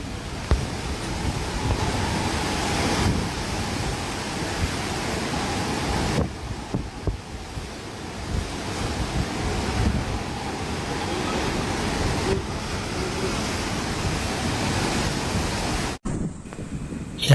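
Rough sea surf pounding the coast at Digha and Balasore during the landfall of Cyclone Yaas, a continuous loud roar of waves mixed with heavy wind buffeting the microphone, with brief dips and a sharp cut near the end.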